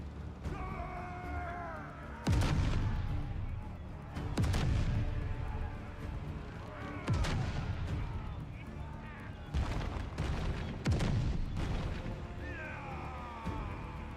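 Gunfire in a pirate video game: several loud, sharp cannon-like blasts spaced a few seconds apart, each ringing out over a bed of game music and ambient noise.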